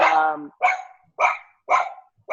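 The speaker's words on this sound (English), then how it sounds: "You see their ship being hailed by a dog?" A small dog barking in a podcast discussion, four sharp yapping barks in quick succession with short gaps between them, close and loud, with no talking over them.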